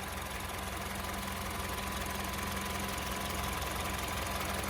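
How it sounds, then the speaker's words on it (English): A 2007 Honda CR-V AWD engine idles smoothly and evenly up close, a constant steady hum with a faint rhythmic pulse and no other sounds. "nice and smooth running engine"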